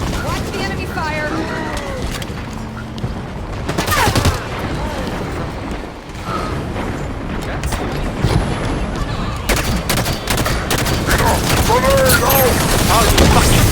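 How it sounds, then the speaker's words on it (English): Enemy gunfire in a video game bursts loudly in repeated volleys of rapid shots and booms, with voices talking over the battle. "Watch the enemy fire."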